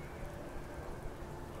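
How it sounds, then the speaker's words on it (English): Steady rain falling in the video game Starfield, a dense, continuous patter that stays even throughout with no voices over it. "Oh, it's raining now. Look at that."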